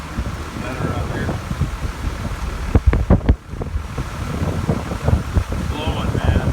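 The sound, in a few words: strong wind blowing during a California rain storm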